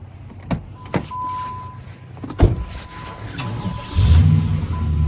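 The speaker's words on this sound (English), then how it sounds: "This car fires right up." A 1994 Cadillac Fleetwood Brougham engine cranks and catches, then settles into a low steady idle, preceded by a few clicks and thumps nearby.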